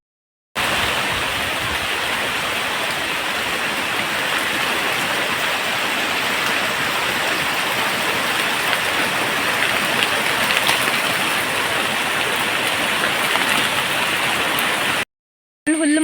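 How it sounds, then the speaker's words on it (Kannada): Heavy rain falls steadily outdoors as a dense, even roar that stays constant for about fifteen seconds with no voices. "ಹುಲ್ಲು ಮಾಡಿ ಬರುವಷ್ಟರಲ್ಲಿ ಜೋರು ಮಳೆ ಬಂತು."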